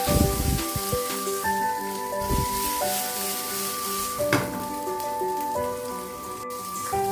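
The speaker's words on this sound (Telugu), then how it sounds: "మనం కొద్దిగా పెప్పర్ పౌడర్ వేసి వీటిని బాగా టోస్ట్ చేయాలి" Fried paneer pieces sprinkled with pepper powder and salt toast in a hot pan, giving a continuous close sizzle with light stirring, over steady background tones and no talk.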